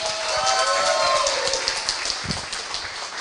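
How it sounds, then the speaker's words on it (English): An audience at a town hall gives Beth Hatch a round of applause: dense, steady clapping that fills the room and gradually thins, with a few voices mixed in. "how about a big round of applause for Beth Hatch"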